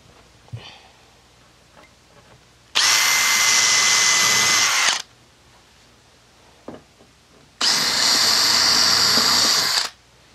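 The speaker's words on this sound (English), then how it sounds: "Square, square, sit on the back and drill it." A power drill bores into a wooden floor board for a cockpit build, two sustained high whining bursts of about two seconds each separated by quiet handling noises, close and loud.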